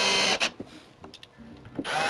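A power screwdriver drives screws into the back of a Zeolite appliance guard, with two short whirring bursts at the start and end and a few small clicks and handling noises between, close up.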